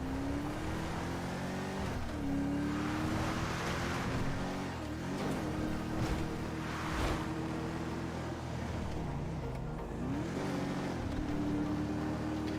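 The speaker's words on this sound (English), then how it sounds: "I'm just driving fast for the sake of driving fast at this point" Car engine in Clear RP roleplay game revving at high speed, a steady loud drone with rising pitch sweeps as it shifts gears around the 2, 5 and 10 second marks, under wind and rushing noise.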